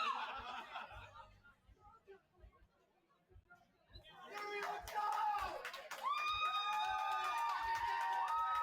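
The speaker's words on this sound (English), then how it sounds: "By Fury is getting some cheers from the crowd" Spectators at a roller derby bout clap and cheer, starting as scattered chatter and light laughter, then swelling into sustained, louder applause and whistles in the second half.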